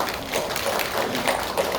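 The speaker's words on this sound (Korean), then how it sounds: "우리 하나님 앞에 영광의 박수 올려드리겠습니다" A church congregation applauding during a Sunday morning service, a steady wash of many hands clapping with a loose rhythmic pulse, fairly loud and continuous throughout.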